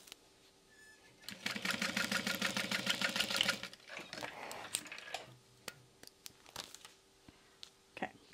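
A sewing machine runs a second stitch line on a convertible hip bag, a fast rhythmic whirring burst of a couple of seconds, followed by fabric rustling, handling and scattered clicks close by.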